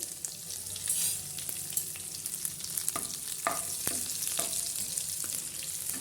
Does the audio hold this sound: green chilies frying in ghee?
yes